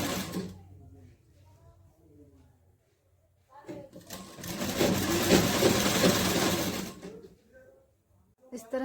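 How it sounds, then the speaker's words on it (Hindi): A sewing machine stitches along a 2.5-inch-wide fabric strip in one steady mechanical run of a few seconds. It is preceded by quieter talk, and a brief burst follows at the end. "सिलाई लगा लेंगे पूरे में।"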